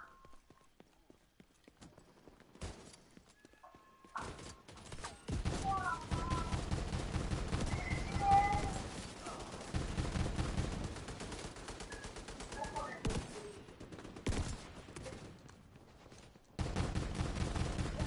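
Shotgun blasts in a PS4 video game ring out as sharp, broadband bursts, some spaced apart and some in quick runs, over a dense game soundscape that also holds hoofbeat-like clopping.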